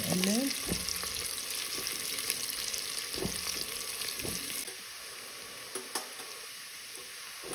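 Onion and garlic sizzle steadily in a pan while being stirred, with a few scraping clicks from the spoon. The sound is close and continuous, and a faint voice is briefly audible at the start. The dish is a lentil soup with lemon, spinach and potato.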